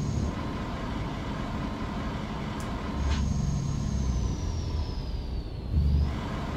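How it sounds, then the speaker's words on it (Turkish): Engine brake of a Scania 144L truck in Euro Truck Simulator 2, a steady low mechanical drone with a thin whine above it, rising slightly in intensity around the middle and again near the end, with no voices. "Bak, motor freni şu anda."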